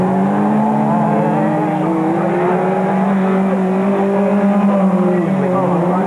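Super Series super trucks race on a wetted track, engines roaring loud and continuous with rising and falling revs and occasional tire hiss, close and sustained throughout.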